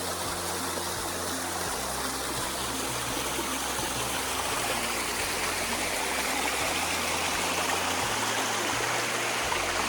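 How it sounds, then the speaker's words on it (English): Waterfalls on the rocky, rugged West Highland Way near Inversnaid rush in a steady, loud, continuous roar of falling water that runs unbroken throughout, with no voices over it. "The waterfalls are pretty cool."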